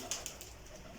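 Golden pigeons coo in a loft, a few soft low murmuring calls close by against a quiet hissy background, with no talking.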